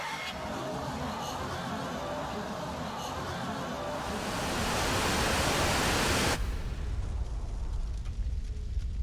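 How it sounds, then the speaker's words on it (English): Dense, steady white noise fills a scene in the video game Castlevania: Curse of Darkness, a loud broadband hiss that swells midway and then drops to a darker, lower rumble. "Thanks for the white noise. I hate it."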